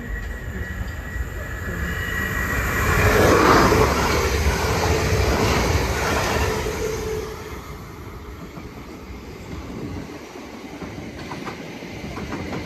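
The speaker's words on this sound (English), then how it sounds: "There goes a Hampton Court service." A Hampton Court service train passing through Raynes Park station, a loud rolling rumble that swells to a peak and then fades as it moves away, with no voices.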